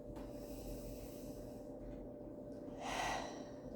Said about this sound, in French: je prends une grande respiration